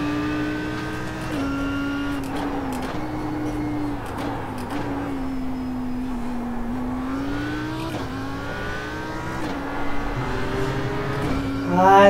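Race car on the Nordschleife, engine droning steadily from inside, pitch shifting through gears and rising as it accelerates at the end, loud and continuous.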